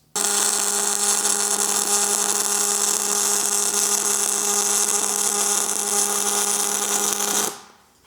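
A power tool grinds steel and throws sparks, a loud, constant high-pitched whir that holds steady for about seven seconds and then spins down and stops.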